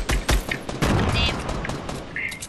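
Gunfire in Fortnite, a few sharp, loud shots at the start followed by scattered bursts and softer rattling, with brief high tones mixed in.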